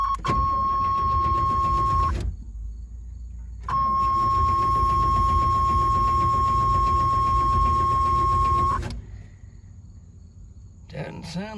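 A Buick Turbo T-Type G-body engine cranks hard in two long bursts, a steady starter whir that fails to catch, separated by short pauses and followed by quieter idle noise.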